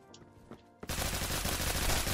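Rapid automatic gunfire in the Roblox game Phantom Forces bursts in suddenly after a quiet moment, then continues as loud, dense, continuous shooting.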